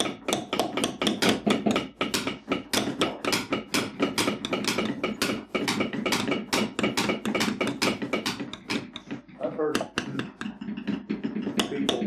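Steady, rapid mallet strikes on a beveling tool stamping lines into leather during a carving class, close and sharp, continuing evenly with a brief lull before resuming.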